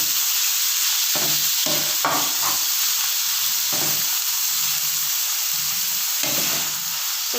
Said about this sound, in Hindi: इसमें हम थोड़ी देर फ्राई करते हैं।